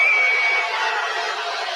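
A basketball arena crowd at a WNBA game reacts to a technical foul with a sustained, loud, dense roar of many voices. A thin whistle-like tone sounds briefly at the start.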